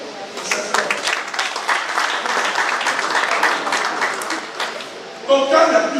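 Church congregation applauding together in a steady, dense wash of clapping that swells near the end, with voices mixed in.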